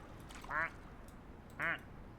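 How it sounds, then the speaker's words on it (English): A duck in a video game gives two distinct quacks about a second apart, moderately loud over a quiet hiss, with no talk. "I've got several ducks, Secret Roo."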